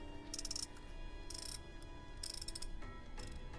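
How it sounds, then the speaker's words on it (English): Mechanical ratcheting and clanking bursts from repairing a vehicle engine in The Last Stand: Aftermath video game, three short metallic clusters spaced over a steady background drone, no talking. "let's repair our engine"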